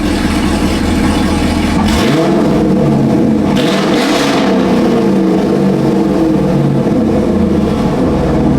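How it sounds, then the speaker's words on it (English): A 2017 Chevrolet Camaro SS 1LE engine runs loud and close, idling with a heavy rumble before revving up and swelling again a couple of times, with no talking. "I'm just waiting a little bit for a rev"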